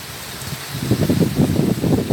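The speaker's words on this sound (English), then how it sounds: "This is really windy. It hasn't really been this windy." Gusty wind during a storm in Virginia buffets the microphone in surging, rumbling bursts, loud and close, after a quieter opening moment.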